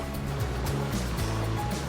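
Canoe pushing through the rocky rapids of the Akan River in Hokkaido, with steady rushing, churning water and hull noise close up, continuous and loud, with a low engine-like rumble underneath.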